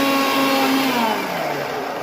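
An electric blender grinds chili and onion into a spice paste, a loud steady whirring motor drone that holds for two seconds with a slight downward shift in pitch near the end.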